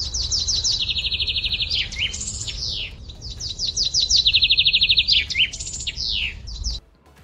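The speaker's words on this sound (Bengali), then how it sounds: "ময়না পাখি বলে কথা" A myna bird calls nearby with loud, rapid chirps and fast repeated trills. The calls come in two long, similar phrases, then stop abruptly.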